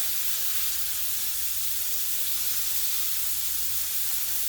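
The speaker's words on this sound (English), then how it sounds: "flip them over, and I hope you can see that beautiful brown crust that we've created on these scallops" Sea scallops sear in a hot pan with a loud, steady, bright sizzle and hiss that carries on unbroken, close up and with no talking.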